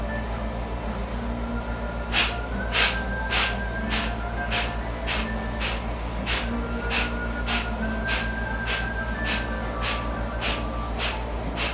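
Forceful, exaggerated exhalation strokes of yoga pranayama breathing, a steady series of about fifteen sharp nasal bursts at an even rhythm, close and clear over a low background hum.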